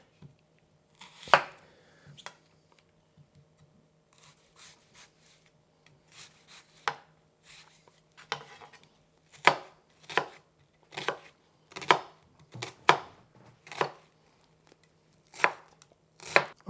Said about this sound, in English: Let's go start with the cutting our onion, trying to make it as small as possible.